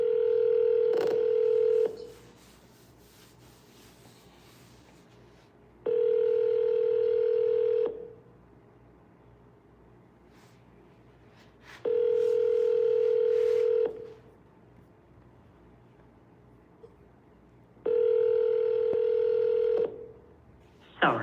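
Repeated outgoing phone call tones while calling for-sale-by-owner leads: steady two-second bursts of ringback tone recur every six seconds, clear and fairly loud, with quiet line hiss between and no talking.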